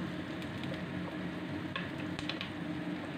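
Chopped garlic fries in a pan while being stirred, giving a soft, steady sizzle with a few faint scraping clicks from the utensil, quiet and close with no talking.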